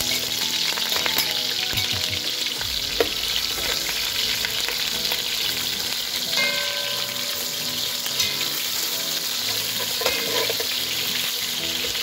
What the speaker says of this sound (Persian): پیازایی را که برش دادیم ما داخل روغن اضافه میکنیم.